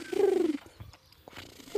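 A man imitates a pigeon's coo with his voice, giving one low, rolling, throaty call up close that fades after about half a second, followed by quiet rustling.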